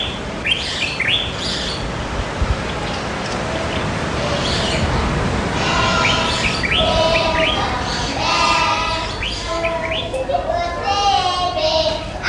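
A bird thought to be a hornbill calls on the Gambian coast in a series of repeated chirping notes, mid-distance, over a constant outdoor background of surf or wind and faint distant voices.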